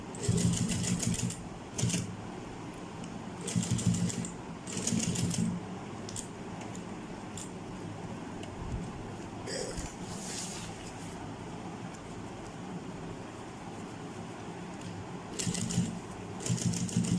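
A sewing machine stitching a crochet spike stitch bag runs in short bursts of rapid mechanical clatter, separated by quieter pauses filled with handling noise.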